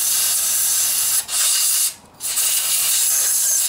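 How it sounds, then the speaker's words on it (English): Compressed air blasts loudly into the carburetor of a Briggs and Stratton Intek OHV single-cylinder riding lawnmower engine, a steady close hiss broken by two brief pauses. "with some compressed air, I can clean it out too"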